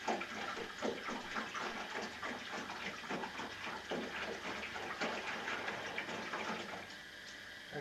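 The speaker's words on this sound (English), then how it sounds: "a little bit over 5 litres of water. So I'll just pour that in there" Water pours steadily and continuously into a 20-litre metal bain marie, a close, even rushing splash lasting several seconds with no voices.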